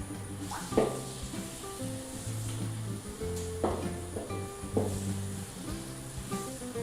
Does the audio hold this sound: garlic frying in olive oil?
yes